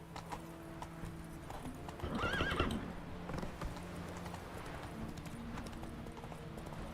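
Hooves clip-clop as the horse Roach gallops in The Witcher 3, a steady rhythmic beat with a brief whinny and snort partway through, over quiet game ambience.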